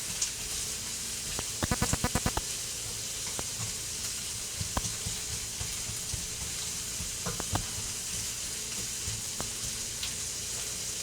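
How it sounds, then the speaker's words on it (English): Vegetables including green bell pepper sizzling steadily in a pan, a continuous hiss punctuated by a brief burst of rapid clicks and a few soft utensil taps. "we got some vegetables cooking up in the pan"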